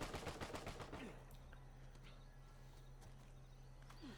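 Rapid-fire AK in the video game Uncharted 4, a fast burst of gunshots at the start that cuts off after about a second, followed by quieter game ambience.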